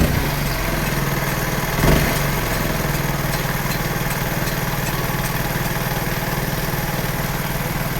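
A CG-70 motorcycle engine, its shaft fitted with a pulley to drive a water pump for irrigation, runs at a steady, even idle throughout, with no one speaking.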